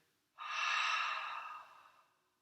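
A single long breath out through the open mouth, close and soft, rising quickly and then tapering away over about a second and a half, alone in quiet surroundings.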